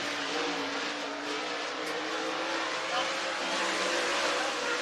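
Race car engines droning steadily around the North Georgia Speedway oval as the field comes up to the green flag, a constant loud roar with faint swells of passing cars.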